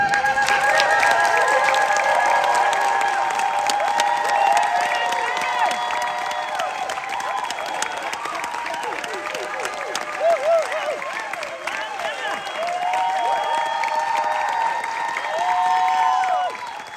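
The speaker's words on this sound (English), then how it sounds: "that round of applause, I think they should be able to sit in it for just for a second" Sustained applause and cheering from a theatre audience after a documentary series premiere screening at Hot Docs in Toronto, steady and loud throughout with whoops rising over the clapping.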